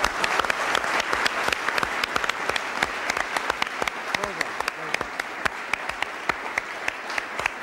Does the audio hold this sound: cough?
no